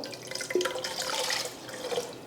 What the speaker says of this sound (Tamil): இப்போ இதில் தண்ணி சேர்த்துருவோம் கொஞ்சம்